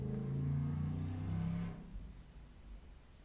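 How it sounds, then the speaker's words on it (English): A truck with a loud muffler rumbles past, a deep throaty engine drone that swells for about a second and a half and then drops away into quieter background noise. "that was the sound of a truck with a loud muffler"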